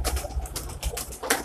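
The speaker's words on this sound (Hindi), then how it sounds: "इसने कबूतर भी रखे" Pigeons kept in a Punjab village coo in soft, rounded repeated calls, fairly close and moderately loud, several overlapping coos in quick succession with no talk over them.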